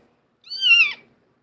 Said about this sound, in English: What a pretty, pretty kitty.